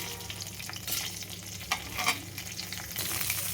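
Curry leaves and turmeric are stirred into a frying pan for a cluster beans and coconut fry, with a soft continuous sizzle and a few light scrapes of the spoon.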